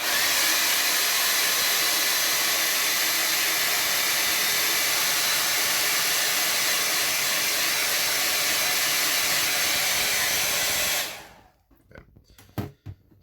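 A hair dryer blowing on a watercolor landscape painting, a loud continuous close whooshing roar that cuts off abruptly near the end, followed by a few faint handling clicks.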